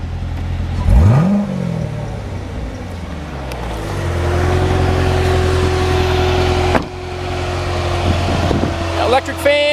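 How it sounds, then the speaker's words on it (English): A 2018 Chevrolet Corvette Z06 convertible with a four-tip exhaust revs up with a rising growl close by, then settles into a steady rumbling idle with a brief burst near the end. "It's got the nice 4-tip exhaust. Nice little growl to it."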